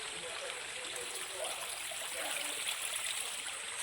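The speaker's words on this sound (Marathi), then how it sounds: "आणि मस्त की पाणी जातं आहे हे बघा" A small stream flows beside a small goddess temple in a forested spot near Alibag, making a steady, even rushing trickle that stays constant throughout with no voices.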